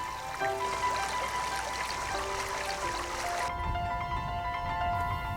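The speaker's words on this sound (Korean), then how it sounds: "애써 찾아 나선 깊은 계곡엔 물소리 낭낭하고" Water rushes and trickles steadily in a deep mountain valley stream in Gapyeong, Gyeonggi Province, South Korea, a continuous broadband wash that thins out slightly toward the end.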